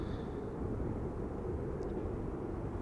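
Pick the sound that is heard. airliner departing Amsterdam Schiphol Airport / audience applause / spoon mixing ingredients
airliner departing Amsterdam Schiphol Airport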